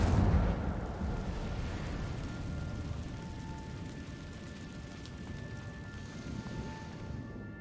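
Incendio fire spell in Hogwarts Legacy, a sudden burst at the start followed by steady crackling, hissing flame noise over a low rumble, with a faint tone in the background.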